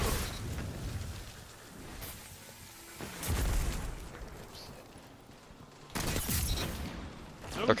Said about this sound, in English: That was kind of nice to have a shotgun that actually smacked again.